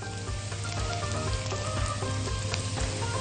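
Chopped garlic fries in hot oil in a pan, a steady, dense sizzle with fine crackling that holds close and even throughout, with no voices over it.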